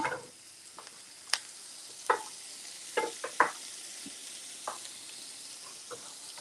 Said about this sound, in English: We're going to give these just about 30 more seconds to get a little bit more color onto some of these mushrooms